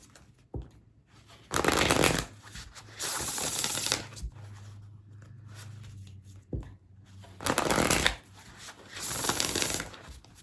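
Oracle cards are shuffled by hand for a tarot reading in several loud, rustling bursts separated by quiet pauses, close up with no talking.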